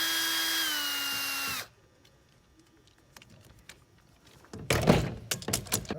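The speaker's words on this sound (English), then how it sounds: "It's a Phillips head screw on one side, little lock nut on the other side." A power drill whirs steadily on a return arm's Phillips head screw and lock nut, then stops, followed by scattered small clicks and metallic handling noises and a louder rattling burst.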